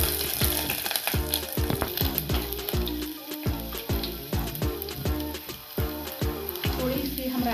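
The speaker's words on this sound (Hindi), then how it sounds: "जीरा अच्छे से भून के अब हम इसमें तेजपत्ता डालेंगे, 2-3 कलियां लहसुन की डालेंगे" Bay leaf and garlic cloves hit hot oil with roasted cumin for dal dhokli, crackling and sizzling loudly and close, with rapid popping and a stirring rhythm throughout.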